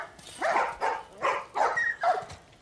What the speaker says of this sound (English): Oh, the dog? We can get a dog?